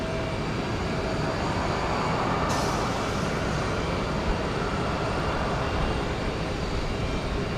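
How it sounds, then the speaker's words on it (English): Boeing 737-900 airliner on the move at Houston Intercontinental, bound for Chicago O'Hare; a broad, steady jet engine roar, loud and unbroken throughout, with a hiss rising slightly partway. "going to Chicago O'Hare. It's a 737-900."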